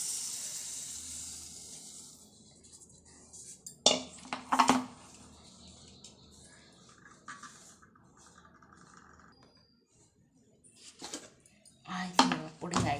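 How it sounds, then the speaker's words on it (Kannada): A ground, cooled mixture is spooned into a mixer jar, producing scattered metallic clinks and scrapes of cutlery against the jar in a few short clusters, separated by quiet stretches with faint background hiss. "ಇದನ್ನೇ ಇವಾಗ ಮಿಕ್ಸಿ ಜಾರಿಗೆ ಹಾಕ್ಕೊಳ್ತಾ ಇದ್ದೀನಿ."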